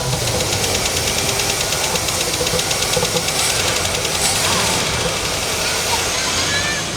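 A Chevrolet El Camino engine running rough on starting fluid, with a loud, steady, knocking mechanical clatter close by throughout.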